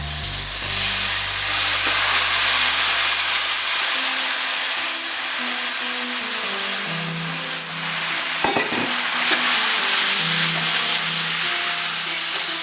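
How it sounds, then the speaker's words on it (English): Sage leaves fry in brown butter in a pan, giving a loud, steady sizzle that keeps up throughout, with a brief clatter of a utensil partway through. "half of our sage, and it's going to immediately start cooking like that"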